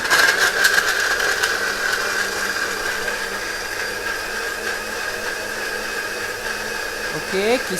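A steady, loud motorised whir runs throughout as a kitchen blender grinds shallots with a little water, with a brief rising pitch sweep near the end.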